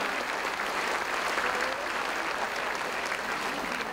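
An audience at a Chinese New Year banquet of a Malaysian qigong association claps in sustained, even applause, dense and fairly loud throughout.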